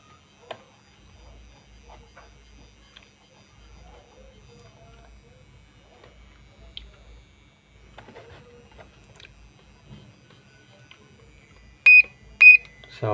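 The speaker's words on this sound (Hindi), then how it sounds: "फाइव मिनट्स के बाद इसमें बजर प्रेस होगा।" Near the end, the timer buzzer on a Us Pro 1000 ultrasound therapy machine gives three short, sharp beeps after a long, near-silent stretch with faint handling noises.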